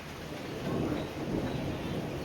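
Thunder rumbles low and broad amid steady rain beside the sea at a beach in Gopalpur, Odisha, a soft rolling swell rising in the middle over constant rain hiss, with no voices.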